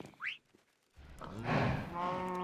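A cow moos in a video game's farm-animal area beside chickens and sheep; a short rising squeak comes first, then a long, loud, drawn-out harmonic moo fills the second half with no talking.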